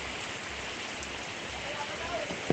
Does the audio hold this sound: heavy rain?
yes